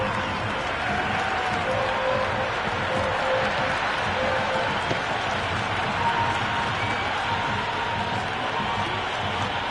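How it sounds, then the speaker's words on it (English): A cricket stadium crowd at a women's league match between Delhi Capitals and UP Warriorz roars continuously, a dense wash of cheering and applause that stays loud and even throughout, with a commentator's voice running underneath. "the crowd have joined the party. It's pretty noisy in the ground."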